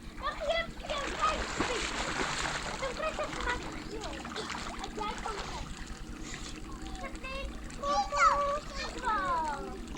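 A child jumps from grass into water with a bright splash, while children chatter and call out around it and ducks or geese may sound faintly in the background.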